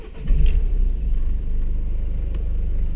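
A Citroen C4 Cactus diesel engine is started, with a short click and a crank followed by a low, steady idle rumble heard from inside the car.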